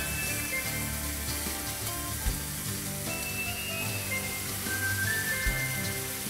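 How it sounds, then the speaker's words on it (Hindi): Boiled potato puree sizzling in a pan, a steady dense crackle close by with faint clinks and no talking. "So we'll put potato puree in a pan."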